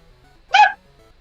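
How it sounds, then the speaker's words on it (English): A single short, high yelp-like bark from a small dog rings out once in a quiet room, brief and moderately loud with no other sounds around it. "Wait, did I just hear a dog?"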